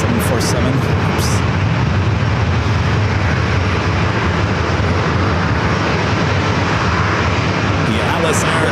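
A Boeing 747 at San Diego airport gives a loud, steady broadband jet roar that fills the whole clip.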